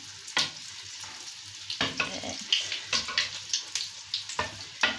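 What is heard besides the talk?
sesame balls frying in oil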